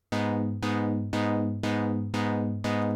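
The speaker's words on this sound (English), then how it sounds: "that will create an interesting wobble effect, stutter effect here" A sustained synth tone pulses in a steady rhythmic stutter from an LFO on the filter cutoff, cut off and retriggered six times at an even quarter-note pace.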